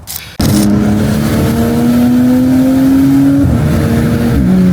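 A Toyota Supra B58 engine with an aftermarket intake and upgraded charge pipe suddenly roars into a loud, sustained rev, holding a steady droning pitch with a slight rise before easing.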